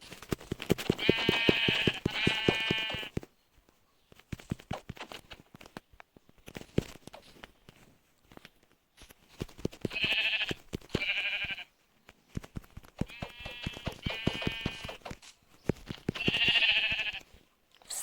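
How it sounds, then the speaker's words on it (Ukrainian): Several sheep bleat loudly in bursts in Minecraft, separated by clicky, scratchy game sounds and short quiet gaps, with no talking. "О, вівці, вівець я одразу заб'ю."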